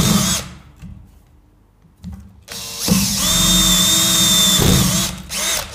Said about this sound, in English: Keep your drill nice and upright, obviously, but try to keep everything close to your body.